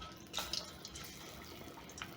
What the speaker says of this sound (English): carefully place my bhajia in my hot oil